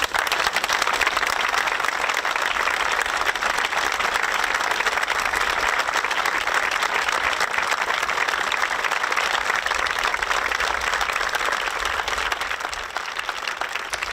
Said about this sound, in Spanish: se rompía la localidad en esos aplausos para recordar al militar fallecido